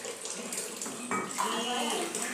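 Tap water running over a pork loin being washed in a kitchen sink, a steady splashing stream with a brief louder surge partway through, fairly close.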